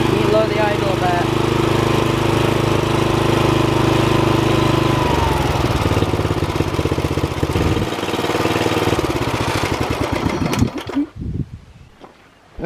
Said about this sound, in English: I'll just let her warm up a little bit, circulate the oil, check that, and then we can go mow some lawns